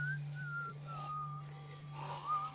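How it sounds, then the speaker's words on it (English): A clear, wavering whistled tune, fairly faint, drifting through a few sustained notes over a steady low hum. "Whistling."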